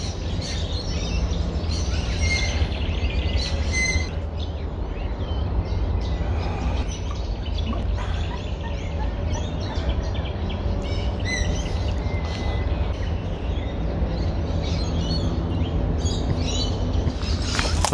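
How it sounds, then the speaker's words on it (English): Birds calling at Sandy Camp Wetlands Reserve, where moorhens are among the birds, send scattered chirps and tweets over a steady low outdoor rumble, with several calls overlapping near and far. "Wow, and there's just so many birds out here."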